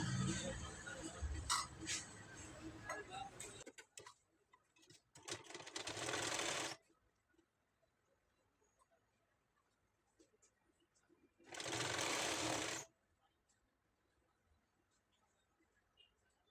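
Two short bursts of a sewing machine stitching a folded blouse side seam run loud and close, the first after a stretch of handling noise, separated by quiet pauses.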